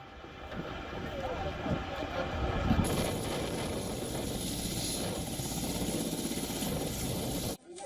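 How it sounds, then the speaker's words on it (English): A helicopter carrying casualties lands on a runway, its rotor thumping and engine whining in a steady, fairly close roar that continues until a sudden cut at the end. "a helicopter carrying casualties landing on the runway"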